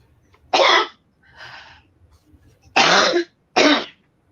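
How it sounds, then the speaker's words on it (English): A person coughs and clears their throat in four separate bursts, close and loud, with quiet pauses in between. "There you go. Cough it all out."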